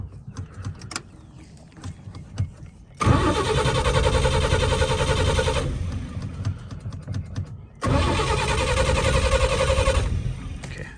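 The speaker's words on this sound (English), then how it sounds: "So we're gonna go ahead and start this up." A 1936 Chevrolet sedan in a cold start with a little choke: the starter cranks in a fast rhythmic churn for a few seconds, pauses amid clicks and handling noises, then cranks again in a second long burst, loud and close.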